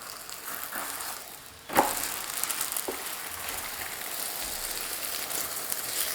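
Flatbread pan-frying over high heat, a steady soft hiss and crackle with one sharp knock partway through, heard up close and without speech.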